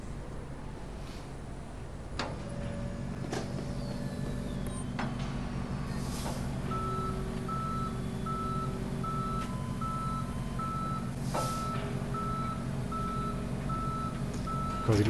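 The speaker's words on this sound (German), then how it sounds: "Da kommt der Abschleppwagen." Tow truck backing up in the police game Police Simulator, its reversing alarm beeping in a steady repeated rhythm over a continuous low engine drone, loud and close with no talking.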